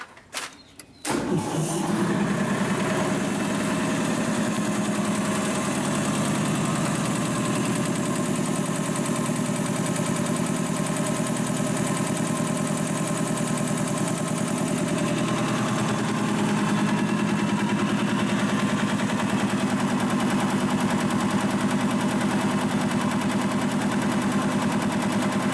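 Industrial two-stage air compressor, freshly rebuilt, kicks on after a few short starting thumps and then runs loud and steady with a continuous pulsing mechanical drone.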